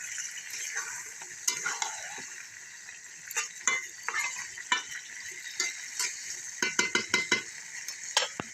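Chicken fried rice is stirred in a pan while it fries, giving a soft sizzle under repeated sharp metallic scrapes and clinks of the spoon against the pan, irregular and close, growing busier toward the end.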